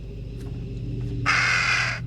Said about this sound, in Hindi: कौवा था एक।